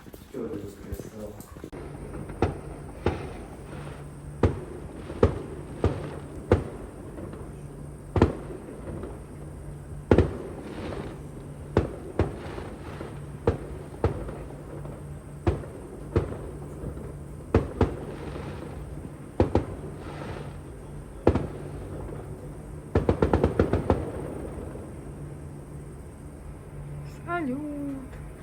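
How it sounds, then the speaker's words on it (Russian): Fireworks salute bursting outdoors: a long series of sharp, separate bangs at irregular intervals, some distant and some louder, with a brief rapid crackling cluster near the end and faint voices underneath. "Салют."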